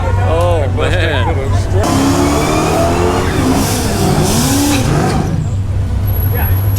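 A Dodge Hellcat at a drag strip, its engine revving loud and close with rising and falling harmonic sweeps over a steady low rumble, while people talk nearby.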